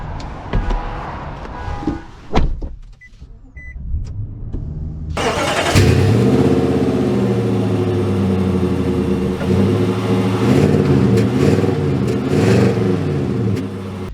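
A 2024 Nissan Titan XD PRO-4X pickup sits quiet with a few cabin clicks, then its engine cranks and fires. A loud, steady engine drone carries on as the truck pulls away and drives.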